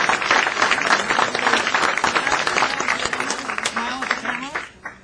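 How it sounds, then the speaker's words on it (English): Brief clapping from attendees at an MTA board meeting as a new chair is unveiled, loud and close, mixed with voices and chatter before trailing off near the end. "A little applause."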